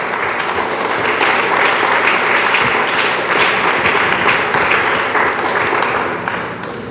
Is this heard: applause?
yes